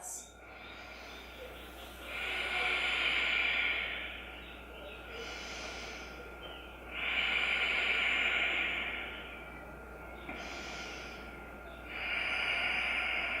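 Slow, deep breaths drawn in and let out during a yoga twist, three long airy swells of several seconds each, close and fairly soft, separated by quiet pauses.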